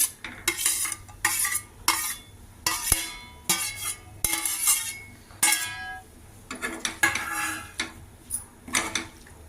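Cooked broad beans and bottle gourd pieces are mixed into softened tomatoes in a pan, with repeated metal spoon scrapes and clinks against the vessel in uneven bursts over a faint simmer, no speech.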